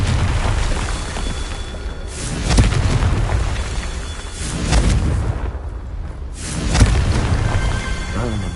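Confringo blasting spells from Hogwarts Legacy go off as deep, booming explosions, three or four loud bursts spaced a couple of seconds apart over rumbling game noise.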